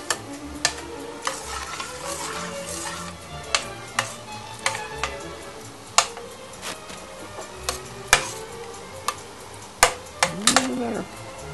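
Prego tomato sauce is poured and stirred into a pan of spaghetti pie: a steady soft wet swirl under repeated sharp clicks of a utensil against the pan, close and moderately quiet, with no one speaking.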